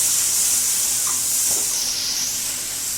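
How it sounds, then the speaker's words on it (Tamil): A steady, loud sizzling hiss as boiled milk hits grated carrot and beetroot frying in a pan for halwa; the bright, continuous bubbling fizz holds evenly for about three seconds, fading slightly toward the end, with no voices. "கொடுத்துட்டு காய்ச்சின பால் 1 டம்ளர் பாலை இதில் நம்ம ஊற்றிடணும்"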